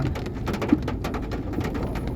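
Wet sandals squelch with each step, a quick series of soft, sloppy slaps repeating in a steady walking rhythm, with no voices.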